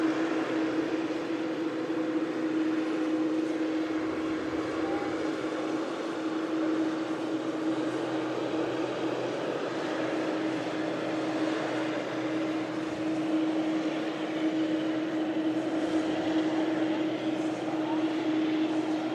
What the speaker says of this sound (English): Lovely TUI Dreamliner taxiing in there